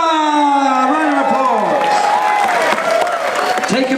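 An audience aboard Royal Caribbean's cruise ship Serenade of the Seas cheers and whoops for a contest winner, with voices rising over loud, close clapping that swells toward the end.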